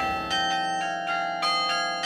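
Carillon bells at Saint Joseph's Oratory on Mount Royal in Montreal ring out in a steady sequence of bright, sustained strikes, each tone overlapping the lingering hum of the last, loud and unaccompanied by voices.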